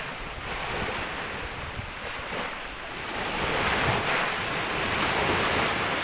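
Lake waves at Alitagtag, Batangas, wash and churn continuously while strong wind buffets the microphone, the roar swelling louder toward the end.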